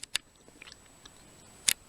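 Someone bites into a crunchy orange chocolate protein bar from a freeze-dried military ration, making a few sharp, close crunches with quiet chewing between them and no talking.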